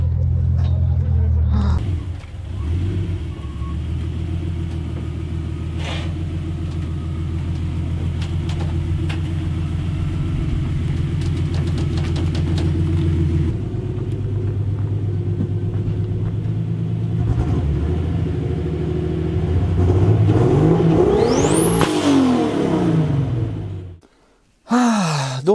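A car engine drones and rumbles at length, then revs up with rising turbo whine and whoosh near the end; people talk and exclaim over it.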